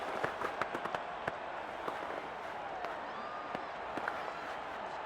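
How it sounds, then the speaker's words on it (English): A simulated stadium crowd in Madden 22 keeps up a low, steady roar of cheering during a football game, with scattered sharp claps and thuds over it, heard at a distance. "the crowd getting into it as we come up on a big 3rd down"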